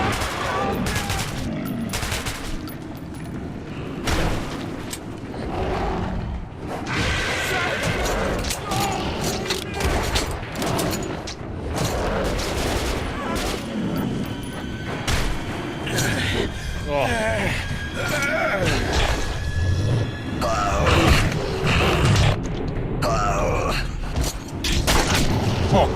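Rapid, dense gunfire from the Metro 2033 video game, with repeated sharp bursts and booms running through the whole stretch, layered under frantic shouted voices.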